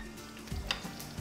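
Onion and garlic sizzle and fry in a home cooking pot, a steady close hiss broken by faint stirring scrapes, with no talking.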